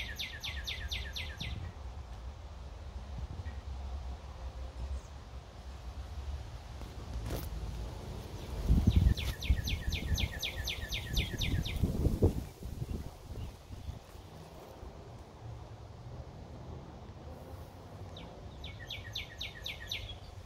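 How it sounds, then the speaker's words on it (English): A red cardinal and other birds sing in a sunny backyard, with short bursts of bright, repeated chirps at the start, middle and end over a steady outdoor background. "And the cardinal is in that tree up there."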